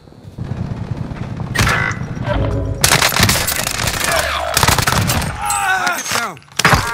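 Heavy gunfire in Call of Duty: Modern Warfare, dense bursts of automatic fire and sharp shots rattling close and loud over several seconds, with voices talking amid the shooting.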